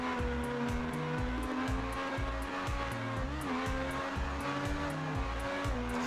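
Cars driving in the video game Trackmania Wii: a steady engine whine holds throughout, with tonal sweeps that rise and dip, layered over a repeating rhythmic thumping beat of game music, loud and continuous with no talking.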